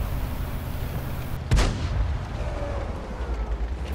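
A tank gun fires once in a tank video game, the T49, a single heavy boom that cracks out over a steady rumble of engine and battlefield noise, then rolls away into the background.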